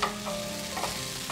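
Garlic noodles tossed with soya sauce, vinegar and chilli flakes on a medium flame, a brief steady sizzle with soft stirring scrapes close by.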